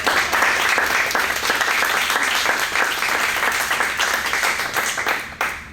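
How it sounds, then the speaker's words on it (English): An audience at a school district candidate forum claps for the candidates in a loud, sustained round that fades out near the end. "let's give them all a round of applause"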